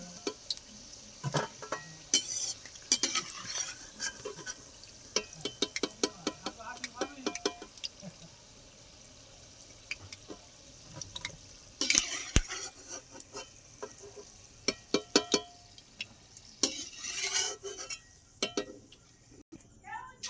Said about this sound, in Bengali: আমার ভালো করে ভাজা হয়ে গেছে